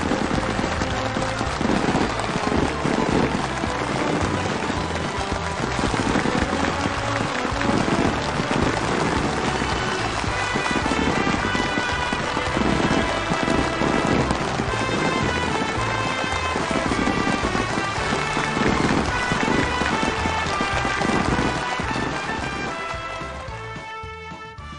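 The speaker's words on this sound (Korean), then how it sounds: "기쁨과 환희가 우렁찬 박수갈채와 격정의 환호로 도져오르는 속에" Thunderous applause and cheering from a large crowd at a factory completion ceremony, a dense continuous roar of clapping that stays loud and steady for over twenty seconds before fading at the end.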